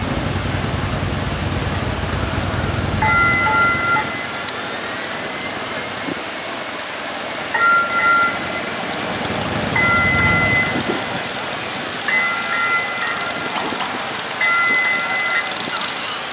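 An Atlanta streetcar rolls steadily along rails with a heavy rumble and low mechanical drone, occasional squeals and a few brief high beeping tones over the noise.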